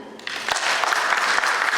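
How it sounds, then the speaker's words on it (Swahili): Crowd applause rises quickly and holds as a dense, steady clatter of many hands for Antony Mavunde at a FEMATA miners' meeting in Karimjee Hall. "Tayari mkana, tumpige makofi"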